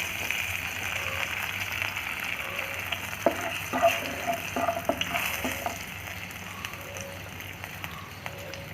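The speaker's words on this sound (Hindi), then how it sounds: "उसी ऑयल में हम अभी डालता हूँ अदरक, जिंजर बोलते हैं। इसको थोड़ा हल्का से फ्राई कर देंगे।" Ginger sizzles gently in hot oil for a Hyderabadi brinjal masala, a steady close frying crackle with a few sharper pops and stirring clicks midway, no voices.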